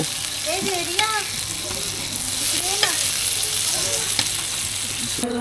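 Bangda mackerel frying in a pan at home: a steady, close sizzle of hot oil runs throughout, with occasional scraping and stirring clinks, while a voice speaks intermittently over it.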